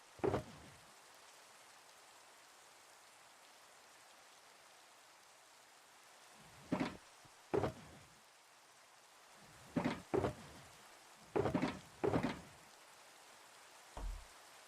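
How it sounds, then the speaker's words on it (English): Video game rain, a soft steady hiss of falling drops that runs continuously and fairly faint, broken by several short louder bursts clustered in the second half. "The rain right after we slept."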